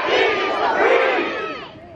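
A church congregation gets loud during a worship song, voices rising together in a sustained, energetic roar of shouting and cheering that swells and fades slightly over two seconds.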